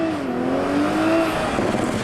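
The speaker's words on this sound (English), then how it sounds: "This thing does the 80 to 120 passing trick in about 3 seconds, and the engine just keeps pulling." A Toyota Supra engine pulls hard under acceleration from inside the car, a loud, continuous rising drone with a whining tone that climbs and then levels off, over dense road and wind roar.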